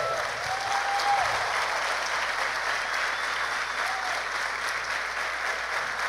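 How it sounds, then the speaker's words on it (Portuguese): A church congregation applauds Jesus during a sermon in a steady, even wash of clapping that holds at moderate volume from start to end, with faint murmurs underneath. "dá uma salva de palmas a Jesus"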